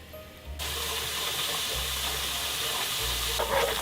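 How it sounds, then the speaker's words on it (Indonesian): Spices sautéing in hot oil: a steady, close hissing sizzle that starts abruptly and holds, with faint bubbling and a low background rumble. "Gunain minyak lebih bagus daripada air, teman-teman. Kita tumis sampai wangi ya."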